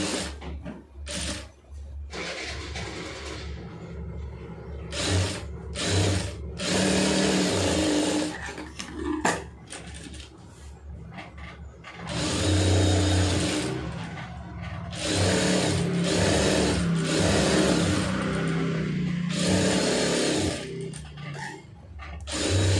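A sewing machine runs in long steady stretches while stitching the lining edge seam of a blouse, its motor whirring with brief pauses between runs.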